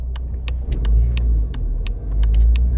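Volkswagen 4Motion car accelerating, heard from inside as a deep, steady engine rumble that swells and eases, with intermittent sharp clicks and ticks over it.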